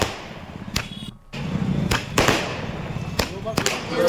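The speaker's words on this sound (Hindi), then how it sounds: "समर्थकों ने नगर परिषद के बाहर जमकर आतिशबाजी की" Fireworks set off by celebrating supporters outside a municipal council office, heard as several sharp bangs and crackling bursts spread across the clip, with crowd noise and voices underneath.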